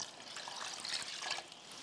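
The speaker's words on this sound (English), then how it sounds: "Now you want to add 4 cups of water to the soup." Four cups of water pour into a soup pot on a stovetop, giving a soft, steady splashing trickle that runs for about two seconds with no talking.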